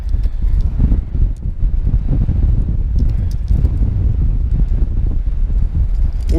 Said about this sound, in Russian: Ужасно сильный ветер, ребята.